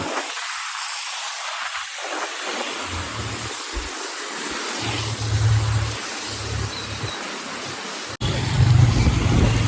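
A car driving along a road, heard from inside or nearby as a continuous broadband rumble and hiss with a low engine hum that rises slightly toward the end.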